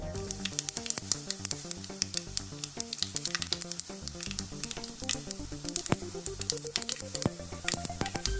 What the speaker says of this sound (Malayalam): അപ്പോൾ നമ്മൾ ഈ കടുക് വറുത്തതിലോട്ട് ഈ തേങ്ങ കൂടെ ചേർത്ത് കൊടുത്തു